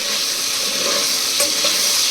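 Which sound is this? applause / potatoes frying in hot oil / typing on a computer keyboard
potatoes frying in hot oil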